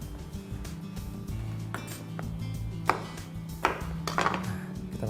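A knife cuts an eggplant into three pieces on a board, a few separate cuts spaced about a second apart, close by and moderately loud.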